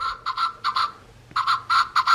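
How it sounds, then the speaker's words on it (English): A red-legged partridge call played from a Wild Republic plush bird toy: a short electronic clucking, chattering call in several rhythmic bursts with a brief pause in the middle, close and clear. "Red-legged partridge."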